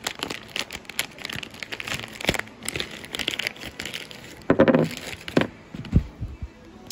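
Plastic packaging for an aftermarket oil pan for a 1999–2007 Chevrolet Silverado 5.3 being ripped open, close-up crinkling and tearing with a few sharper bursts of rustle near the end, no talking.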